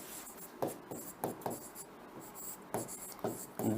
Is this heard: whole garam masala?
no